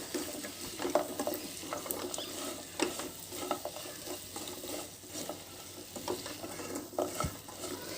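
Fried paneer cubes stirred into chilli paneer in a pan, a soft, quiet sizzle with irregular scraping and patter from the spoon, close and steady without talk.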